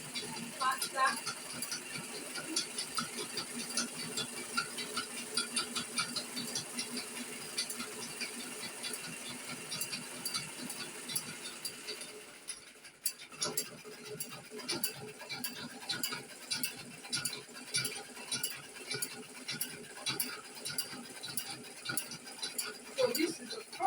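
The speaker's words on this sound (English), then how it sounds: "learn how to pedal your machine slowly until you become expert" Manual sewing machine treadle pedaled by foot, a steady mechanical clicking and patter of the pawl and gears that starts slow and keeps running, with a brief pause midway before the rhythm resumes.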